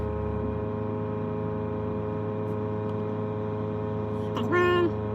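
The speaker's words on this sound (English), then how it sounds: "The compressor sounds pretty good." A tire inflation system's air compressor, from an UpDownAir four-tire setup with an InDeflate four-hose unit, drones steadily and close by, and a short rising tone or voice cuts in briefly near the end.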